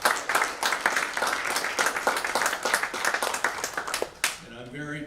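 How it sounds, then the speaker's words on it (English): A room full of people applauds competing teams at a university shark-tank style business competition, brisk clapping that swells and then tapers off near the end as a voice begins. "let's give all of our teams a round of applause here"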